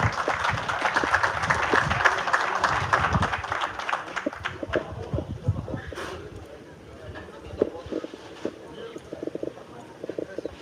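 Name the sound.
applause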